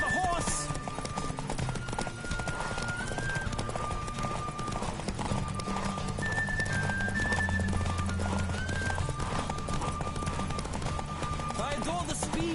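Horse hooves gallop at a quick, steady clip-clop with occasional neighs in The Witcher 3 video game, set over a continuous game soundtrack, with a voice speaking at times.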